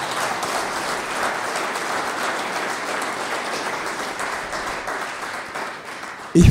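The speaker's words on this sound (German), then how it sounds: "Applaus" Audience applause at an award ceremony, a broad, steady wash of many hands clapping together that carries on evenly and fairly loud, then cuts off abruptly at the end.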